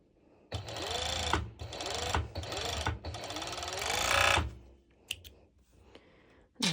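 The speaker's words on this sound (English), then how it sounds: "I'm going to stitch over all these parts which I already did." A sewing machine stitches pieces of a bikini top in several loud, close bursts of rapid whirring, separated by short pauses and soft handling clicks, with no one talking.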